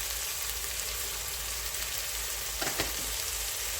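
Steady frying sizzle in a pan as turmeric goes in while making Kolhapuri kat vada, a continuous broadband hiss with a brief clatter near the end, heard alone without talk.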